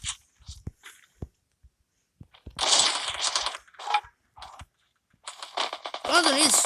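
Sniper rifle fire in an online shooter video game comes as sharp, sudden cracks and short bursts of gunfire with quiet gaps between them. Several loud, dense volleys sit near the middle and the end.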